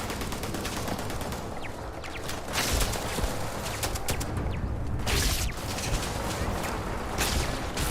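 Turret gunfire in the space game Starfield: dense, rapid bursts of shots that keep going nonstop and close, layered over a loud roar of combat, with a faint voice now and then.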